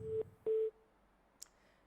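Two steady beeps of a phone line tone after a caller's connection dropped, followed by silence and a faint click.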